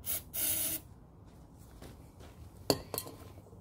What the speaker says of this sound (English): Give a little bit of starting fluid to get her primed.